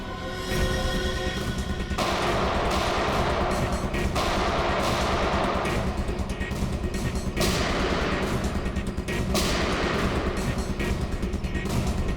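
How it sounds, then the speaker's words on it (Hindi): Rapid gunfire from a TV crime drama shootout, with dense, continuous bursts of shots and loud impacts running throughout at high, steady intensity. "गोलियां चला कौन रहा है?"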